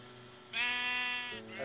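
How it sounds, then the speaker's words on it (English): A sheep bleats in Minecraft, one drawn-out nasal bleat close by, followed by the start of a second, with faint background tone and no talk. "Oh, we got also some sheep over here."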